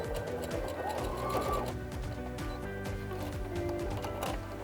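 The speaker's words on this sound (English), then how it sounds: "at the end of this tie, we want to make sure and back stitch again to reinforce those stitches" A sewing machine back stitches over the end of a fabric tie on a half apron, a steady close mechanical whirr with rapid repeating needle beats running throughout at moderate level.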